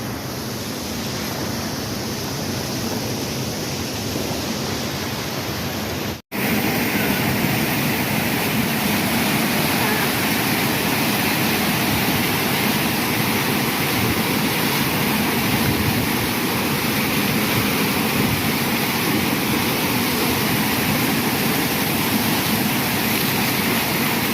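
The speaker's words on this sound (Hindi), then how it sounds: "सामने में आप देख सकते हो झरना है" Loud, steady roar of a waterfall rushing continuously, with one brief dropout near the start, no voices.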